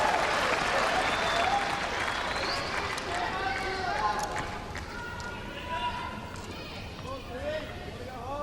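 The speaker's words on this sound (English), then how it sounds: "Crowd getting a bit rowdy out there." Tennis crowd at the Australian Open women's quarter final growing restless, a loud, dense wash of cheering, chatter and scattered clapping throughout, with a commentator's voice over it.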